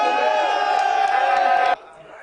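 A large crowd of campaign supporters at a gubernatorial election rally roars and cheers loudly and steadily, then cuts off abruptly near the end.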